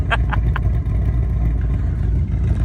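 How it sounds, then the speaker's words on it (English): A tuned Ford Mustang S650 at a cars-and-coffee meet idles with a choppy, lumpy cam, its deep uneven exhaust pulses loud and close with a few sharper clatters near the start. "you can see the S650 Mustang is chopping. Listen to that thing."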